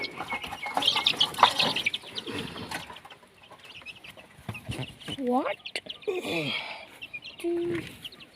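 Chickens cluck and squawk repeatedly near a rural home kitchen, with a rooster-like call standing out, mixed under and between people talking in the background.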